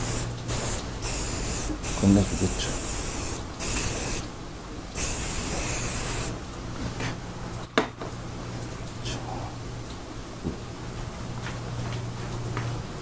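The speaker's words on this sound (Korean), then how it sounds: "스프레이를 한번 쫙 뿌리시면" Hair spray from a spray bottle hisses onto a man's hair during a haircut in several short, sharp bursts early on. A voice talks quietly in the background and continues as the spraying stops.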